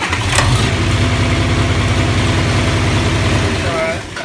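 A John Deere 4020 tractor engine runs loud and close with a steady low chugging throughout. A brief starter-like burst is heard near the start, and the sound fades slightly at the end.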